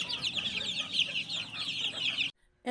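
A hen clucks steadily and close on a gamefowl farm, her repeated calls running without pause before cutting to near silence at the end.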